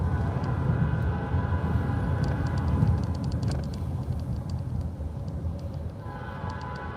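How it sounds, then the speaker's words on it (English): A train rumbling past with a heavy, continuous roar and rattling wheels, punctuated by high metallic squeals and clicks from the rails. "Oh, I hear the train, y'all."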